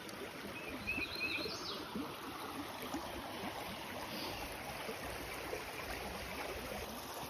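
A creek runs steadily beside a walking path, a soft continuous wash of flowing water with faint bird chirps scattered over it, heard outdoors at moderate distance.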